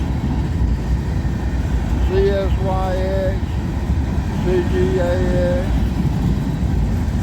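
A freight train of tank cars and grain cars rumbles past on a hill in a steady low roar, with someone speaking over it.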